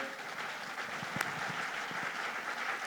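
An audience claps in steady, dense applause to acclaim the Lord, with no voices over it.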